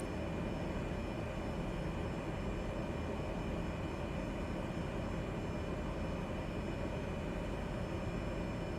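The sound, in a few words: airliner engine flying overhead in a flight simulator video game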